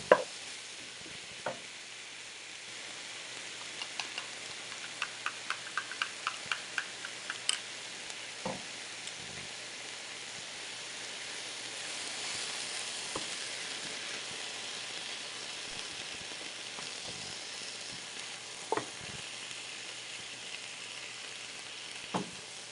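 Reindeer stroganoff with cream just poured in sizzles softly and steadily in a pan, with a run of light ticking clicks early on and a few utensil taps scattered through.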